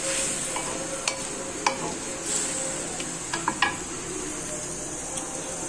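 Fish and halved potatoes sizzle steadily in a pan, with a few sharp clinks and scrapes of a spatula stirring them on and off throughout, close and fairly loud with no talking.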